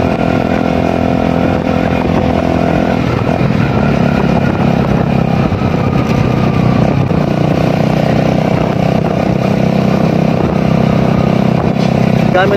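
A motorcycle engine runs loud and close throughout, a steady rumbling drone with slight shifts in pitch as it rides along.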